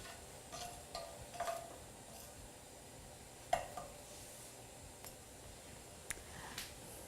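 Seeds sputter in a dry hot pan: faint, sparse pops and crackles come at irregular intervals over a quiet background hiss, with no talking.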